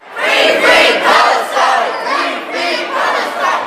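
A large crowd of pro-Palestinian protesters inside the Indiana State House chanting in loud, rhythmic, repeated shouted phrases, with the voices echoing through the hall's hard interior.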